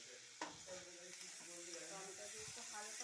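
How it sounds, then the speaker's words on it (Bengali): Dry flattened rice (chira) lightly frying in a pan, a steady soft sizzle with occasional stirring scrapes, close and moderate, with faint indistinct voice in the background. "হালকা ভাজবো, অল্প চিড়ে দিলাম, শুকনো চিড়ে"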